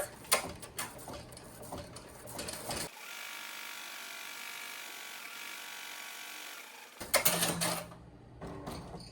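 An embroidery machine stitching glitter heat-transfer vinyl sleeves gives a rapid, steady mechanical whirr and patter, then pauses into a quieter hum before the buzzing stitching starts up again.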